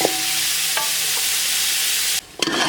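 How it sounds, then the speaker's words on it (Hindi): Cooked beef for Karachi nalli biryani is tipped into a large pot on the stove, giving a loud, continuous sizzle and scraping stir. A brief clatter near the end breaks the frying. "ये जो हमने बीफ बना के रखा है ये सारा इस देचके में डालेंगे"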